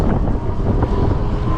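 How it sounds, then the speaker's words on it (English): Steady wind buffets the microphone during an outdoor cargo e-bike ride, a continuous low rumbling roar with no pauses and no voices. "It's a little bit windy today"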